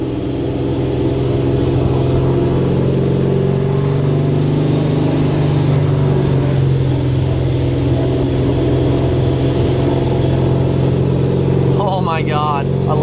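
A supercharged S197 Ford Mustang fitted with a Paxton 2200SL blower drives hard, a loud, continuous engine and supercharger whine holding steady close by, with a voice breaking in briefly near the end.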